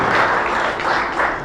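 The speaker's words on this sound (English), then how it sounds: "Yes, I think that deserves a round of applause." A brief burst of audience applause at an International Mother Language Day storytelling event, dense and fairly loud throughout its short length, with no voices over it.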